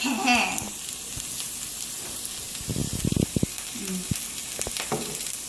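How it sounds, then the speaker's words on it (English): Eggs and potatoes frying in a pan, a steady sizzling hiss with a cluster of sharp pops and crackles partway through, heard close with light kitchen clatter and no talking. "it's sizzling and it's popping, and we need to stir"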